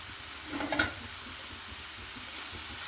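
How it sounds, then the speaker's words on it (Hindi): Fenugreek leaves (methi) frying in a pan, giving a steady soft sizzle with a brief stirring scrape early on, close and fairly quiet, with no voices. "मेथी को यहाँ पे हम अच्छी तरह से भून लेंगे।"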